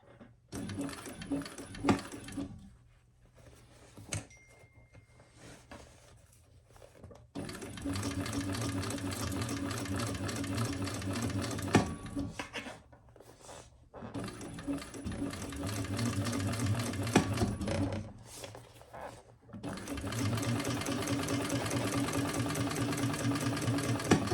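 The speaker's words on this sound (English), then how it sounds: "I hold my threads." Sewing machine stitching a hobo-style shoulder bag, bursts of steady rapid mechanical whirring that stop and start several times with short pauses between runs, close and prominent.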